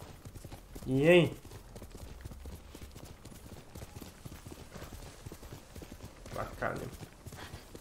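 A horse's hooves clip-clop in the samurai video game Ghost of Tsushima, a rhythmic trotting pattern running through the scene while someone talks over the gameplay, with a brief louder vocal burst near the start.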